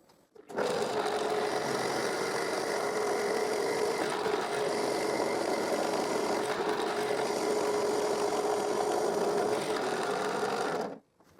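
A steady, continuous mechanical whir of a drill press boring into wood, running loud and unbroken for about ten seconds before cutting off.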